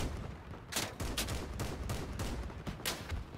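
Vehicle-mounted guns fire in a Crossout battle: rapid bursts of shots crack out in quick succession over a steady rumble, loud and close throughout.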